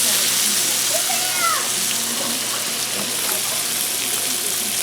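Water hits a hot pan during bacon cooking for mac and cheese and sets off a steady, broad sizzle that hisses on without a break, while a faint voice is heard briefly.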